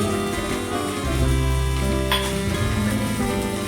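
Potato poha (flattened rice with potatoes and coriander) being stirred in a hot pan, giving a steady soft sizzle and scraping over a continuous tonal background, with no talking.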